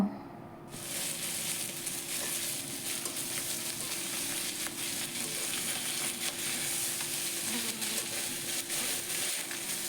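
Tengra fish frying in oil in a kadai, giving a steady, fairly quiet hiss and crackle that runs throughout, with faint soft scrapes from gentle stirring.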